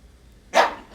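One sharp bark from a dog, sudden and fairly close, rising out of a quiet room hum and fading within a fraction of a second.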